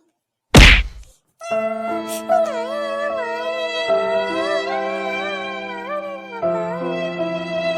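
A cartoon beating opens with one hard, loud thwack, then a sustained, wavering musical tone follows.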